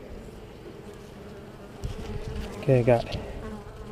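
A steady drone of honey bees swarms around open brood frames during a springtime hive inspection, with a brief spoken remark breaking in near the end.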